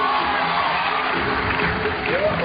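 A large crowd cheers and roars under a big tent at the 2012 Innsbruck bouldering World Cup finals, a dense, steady wall of crowd noise with shouts and whoops, loud and continuous throughout.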